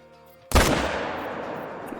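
A single loud rifle shot cracks out in the Call of the Wild hunting game as a whitetail deer is hit. A sharp report is followed by a long echoing tail that fades away.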